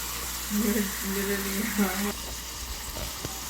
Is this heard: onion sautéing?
yes